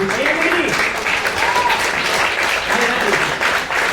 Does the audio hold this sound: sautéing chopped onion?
no